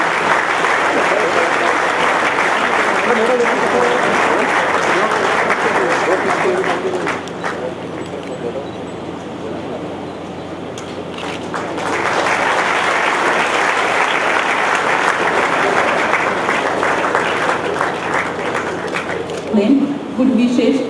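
Sustained audience applause at a university convocation ceremony, loud and dense with many hands clapping. It dips to a softer patter midway, then swells back to full strength before fading.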